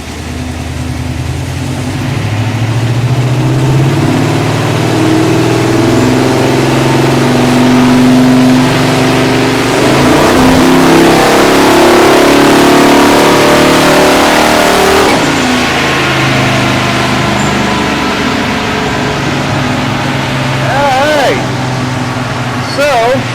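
A car engine revs continuously on a chassis dyno during a live session, building up toward 3,000 rpm and holding as a loud, sustained drone for over twenty seconds, with people talking over it.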